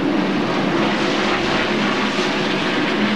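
Stock car engine revving at high RPM, up to 8,900 RPM, during the 1999 NASCAR Winston Cup Goody's Body Pain 500, a steady loud roar that fills the whole stretch without letup.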